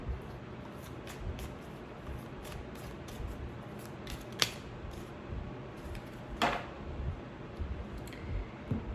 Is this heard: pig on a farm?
no